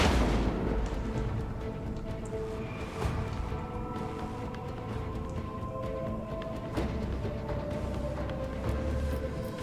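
Torpedoes striking a ship in Rogue Trader, heard as a couple of muffled, distant booms and sharp impacts over a dense, rumbling space-battle soundtrack, none standing much above the steady background din.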